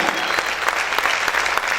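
A church congregation claps loudly and steadily, a dense wash of applause filling the room with no break.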